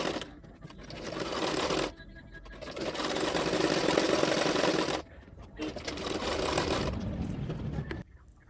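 Sewing machine stitching blouse parts for a size 32 double katori blouse, running in steady whirring bursts of about two to three seconds with short pauses between, close and fairly loud.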